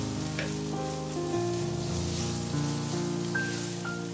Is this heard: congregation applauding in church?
no